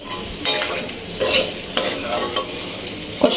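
Papaya pieces sautéed in a thick spice paste without water for an egg and papaya curry, stirred with a spatula in a few loud scraping strokes over a steady close sizzle.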